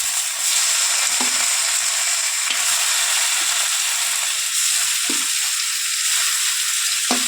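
Tomatoes frying with softened onions in hot oil, a steady loud sizzle running throughout with a few soft scrapes of stirring.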